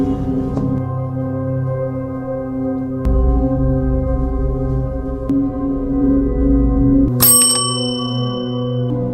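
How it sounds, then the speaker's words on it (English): An antique cursed bell in the 2024 horror film Oddity gives a single bright, ringing strike with a lingering tone near the end, above a low sustained droning score. "Ted rings the bell without the slightest hesitation"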